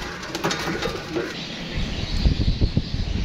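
Pigeons, adults and several young, coo in low murmurs amid a busy rustle of wings and scuffling, growing louder and more active toward the end.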